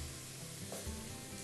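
Chopped onion dropped into hot fat in a pan, giving a steady close sizzle and crackle while cooking.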